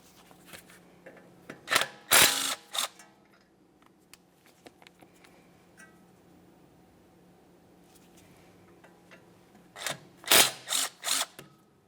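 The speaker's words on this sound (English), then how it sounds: "we'll continue on to removing these two 10mm headed bolts that hold your brake flex hose to that steering" Ratchet loosening 10mm brake flex hose bolts on a 1994-1997 Honda Accord front brake, short bursts of quick metallic clicking close by, separated by a quiet stretch with faint tool handling.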